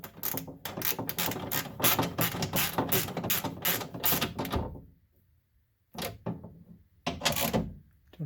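A ratchet with a 10mm socket tightens a bolt on the electric power window regulator of a Honda Fit, producing fast close clicking bursts, a pause, then a few more short ratcheting strokes.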